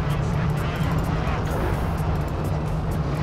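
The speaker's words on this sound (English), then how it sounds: "Anti-tank armed aircraft are standing by." Anti-tank aircraft in the Company of Heroes 2 Brody tank battle, a steady loud engine drone with a constant hum holding throughout, heard beneath occasional talk.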